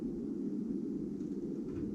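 Underwater hydrophone recording of freshwater drum chorusing: a continuous low band of rumbling energy, steady and unbroken for the whole stretch, with no other sounds standing out.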